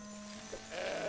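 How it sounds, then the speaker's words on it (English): A goat bleats once in the video game Cora the Blade, a short wavering call in the middle of the clip. Steady game tones and ambience run underneath it, and they swell toward the end. "That goat bit you right back, didn't he?"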